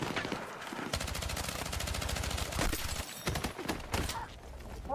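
Rapid automatic SMG fire in Battlefield 6, several sustained bursts of close, loud shots with brief pauses between them, no talking.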